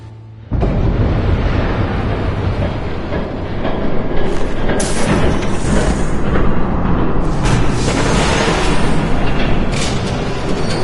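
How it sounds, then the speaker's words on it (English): A train roars past in Batman: The Telltale Series, a loud, dense rumble with rattling, clattering cars that swells midway and stays heavy to the end, with no talk over it. "There's a train coming."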